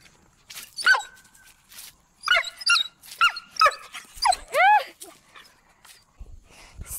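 A dog at a barn barks and yips in quick bursts, loud and close, with high whining tones between barks and people talking excitedly nearby.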